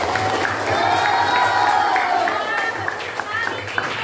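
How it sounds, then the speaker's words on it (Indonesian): Students in a classroom lesson clap and cheer together, a busy, steady mix of hand claps and excited children's voices filling the room, with a teacher's voice mixed in. "Ya, tepuk tangan."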